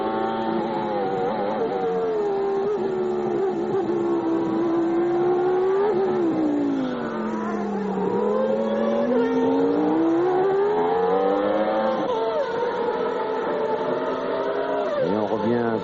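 A 1994 Lotus Formula 1 car with a Mugen-tuned Honda engine races at the French Grand Prix, its high-pitched engine wailing continuously as it rises and falls through gear changes, loud and close throughout.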